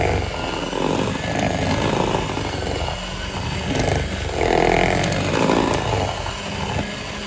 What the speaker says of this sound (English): So I'm just going to take a normal hand mixer. This might be a little bit loud.